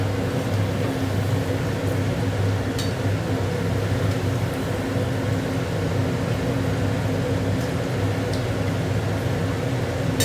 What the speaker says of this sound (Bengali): পকোড়াটা ভেজে দিই